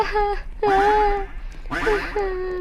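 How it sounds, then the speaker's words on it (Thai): A cartoonish duck quacks three times in quick nasal bursts, loud and close, a video game sound effect. "เสียงเป็ดชัดๆ ฉันได้ยินมันมาแต่ไกล"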